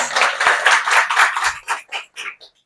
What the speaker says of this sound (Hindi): इसके लिए जोरदार तालियां साथियों।